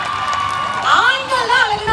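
A crowd at a comedy star night event in Nagercoil cheers and whoops loudly, with a rising shout or whistle cutting through the roar.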